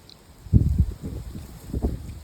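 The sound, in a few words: wind blowing in a garden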